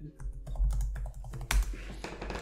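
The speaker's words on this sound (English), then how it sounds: "I was just typing stuff" Computer keyboard typing in a quiet indoor setting, a run of light irregular clicks with a brief louder burst partway through, close and alone without talk.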